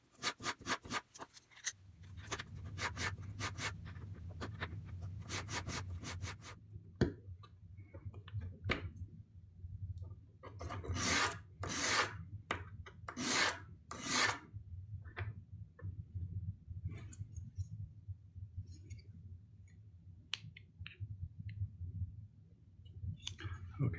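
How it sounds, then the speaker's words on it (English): Sandpaper of 220 grit rubbed over a wooden tenor guitar bridge, a close, steady scratchy rubbing in repeated strokes, with sharper bursts partway through and no talk. "This is 220 grit sandpaper."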